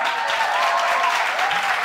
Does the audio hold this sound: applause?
yes